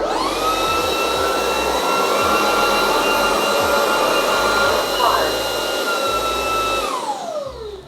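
A Roborock Dyad Pro wet and dry vacuum runs on max mode with a loud, steady motor whine and a high-pitched whirring tone. It holds for several seconds, then winds down at the end, with no talking over it.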